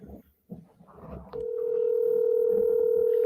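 A telephone dial tone rises and holds as a steady, unbroken hum while a call to a friend is placed, coming in after a few soft handling clicks and muffled bumps.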